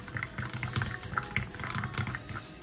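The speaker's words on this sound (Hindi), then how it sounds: "अभी जो ये पानी है बहुत अच्छे से हमारा बॉयल हो गया है" Water boils in a pot while Korean food is being cooked, giving a busy, uneven bubbling and crackling that stays close and moderately loud throughout, with no voices.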